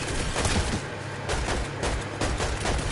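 Rapid gunfire from a Fortnite Zero Build match in an open field, a dense run of repeated shots pulsing at steady, near, loud level with no talking.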